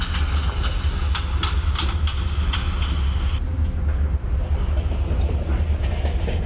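Locomotive engine at full throttle in Microsoft Train Simulator, hauling the Vidarbha Express: a steady loud low rumble with rhythmic clattering of wheels over rail joints, continuous and close throughout.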